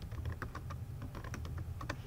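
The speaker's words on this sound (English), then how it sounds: "So if I want to just start typing, I can say the main characters are." Fingers tap steadily on a computer keyboard, a close run of quick, even key clicks at a moderate level with no one talking.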